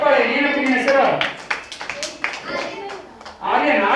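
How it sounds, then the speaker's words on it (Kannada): Listeners at a talk for teachers, parents and students clap in a short, loose burst midway through, framed by a speaking voice before and after. "ಯಾರು ಜೋರಾಗಿ ಚಪ್ಪಾಳೆ"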